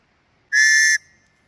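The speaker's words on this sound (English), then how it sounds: "On the haversack, we have an emergency whistle, which came with our Topps Bob knife." An emergency whistle supplied with a Tops Bob knife and carried on a haversack gives one steady, shrill blast of about half a second, loud and alone, with a brief fading tail afterward.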